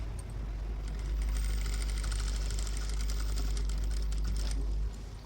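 A sewing machine stitches a blouse in a steady, fast mechanical whirr with a low motor hum and a rapid needle clatter, running continuously for about five seconds before easing off.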